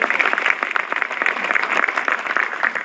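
Audience applause for Dr. Jatin Choudhary, a steady patter of many hands clapping at moderate volume, with no talk over it.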